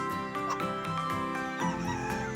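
Chickens cluck and murmur close by, several birds overlapping in a busy, continuous farmyard chatter.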